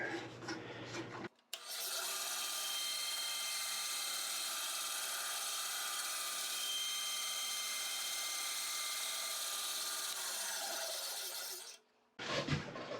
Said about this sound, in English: Now the bandsaw, we're going to cut some relief cuts so we can break him.